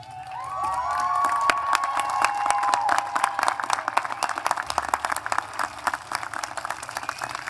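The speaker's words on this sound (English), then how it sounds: "give a round of applause to the people that have helped you get here" Graduation ceremony crowd in a large hall breaking into applause with whoops and cheering, a high whistle-like cheer early on, then steady rhythmic clapping that stays loud and near throughout.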